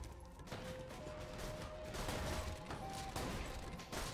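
Shotgun fire in the Borderlands 2 video game, a dense run of booming blasts and crashing impacts layered with game effects, quiet overall and continuous for several seconds.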